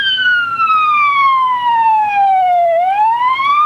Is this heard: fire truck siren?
yes